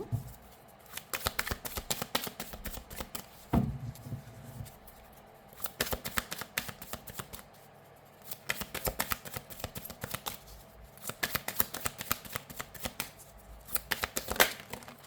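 Tarot cards are shuffled up close in quick riffling, flicking bursts with short pauses between rounds, fairly soft and with no talking.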